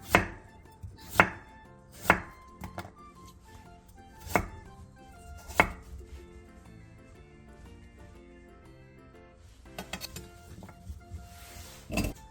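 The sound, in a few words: knife chopping radish into pieces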